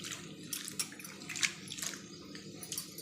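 Cut onion pieces drop into a bowl of water with soft, faint plops and light splashes in a few separate bursts, close by and quiet.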